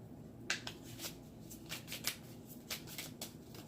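Tarot cards being shuffled by hand, a series of soft riffling flicks and slaps at uneven intervals, close but quiet, with no talking.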